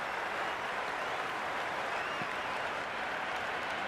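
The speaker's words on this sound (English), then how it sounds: "There's a buzz, a real buzz coming from the stands." Crowd in the stands at a T20 World Cup cricket match between Australia and South Africa, a dense steady roar of cheering and applause that holds evenly throughout without clear voices.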